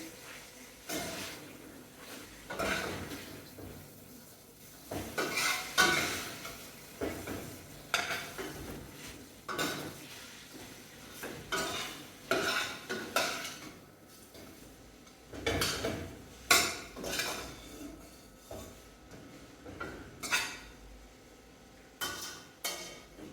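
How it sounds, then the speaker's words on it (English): Cabbage and saltfish in coconut milk stirred in a pot, with intermittent utensil scrapes and clinks against the metal and a faint simmer in between, spaced out over the stretch and without talking. "Stir it in."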